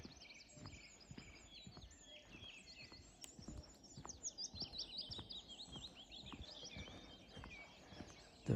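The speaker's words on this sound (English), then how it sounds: "the morning chorus in the Burren, County Clare, the west coast of Ireland" Many birds sing a dense dawn chorus in the Burren, County Clare, Ireland, overlapping trills and whistles, with a few soft thuds in the background.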